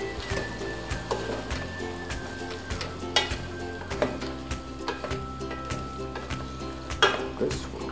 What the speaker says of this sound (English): And let's mix the mutton.